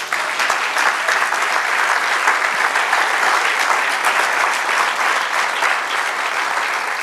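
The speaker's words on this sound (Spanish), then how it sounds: "Denle un aplauso a Señor." A church congregation claps steadily and densely throughout, a full, sustained round of applause filling the room with no voices above it.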